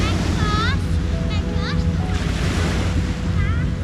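Steady, loud wash of surf rolls onto a sandy, empty beach, a constant roar with some wind buffeting the microphone, while a few brief high chirping calls rise above it now and then.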